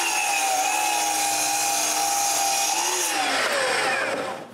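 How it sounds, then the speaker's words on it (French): A power tool cuts two square wooden blocks for kayak cart wheels. It makes a loud, continuous whine with a shifting pitch that rises and sweeps toward the end of the cut, with no talk. "La première chose que je fais est de couper 2 blocs carrés."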